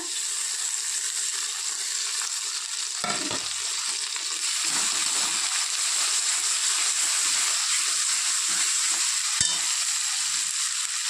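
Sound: chicken frying in pan with chili and ginger paste

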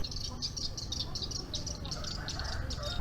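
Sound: swiftlets chirping near bird-nest house in Indonesia

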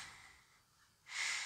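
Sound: dog sniffing a couch

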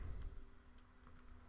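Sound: typing commands on a computer keyboard

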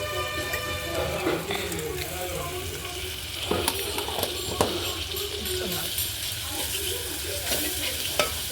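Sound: ginger garlic paste sizzling while stirred, fish curry on wood stove

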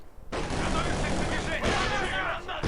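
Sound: grenade explosion and gunfire in the video game Company of Heroes 2

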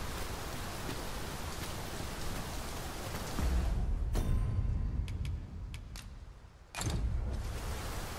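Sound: rain in a video game

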